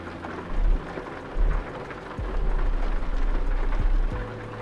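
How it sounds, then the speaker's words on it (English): Steady rain drumming inside a truck cab in Euro Truck Simulator 2, with deep low rumbles that swell and fade beneath the hiss of falling drops. "The rain is loud, is it?"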